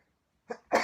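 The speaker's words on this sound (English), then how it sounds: "Sneeze." A single sneeze from a man, a short sharp intake followed by a brief explosive burst, close and fairly quiet against silence.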